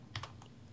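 A few quick clicks from a computer keyboard while editing in Photoshop, two brief taps close together then a softer one, set against a quiet background hum with no talking.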